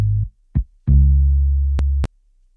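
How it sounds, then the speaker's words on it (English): A groovy bass line for a Wizkid-style Afrobeats track programmed in FL Studio plays alone: a short low note, a quick blip, then a long sustained deep tone broken by two tiny clicks. "with the bass, this is what the bass sounds like"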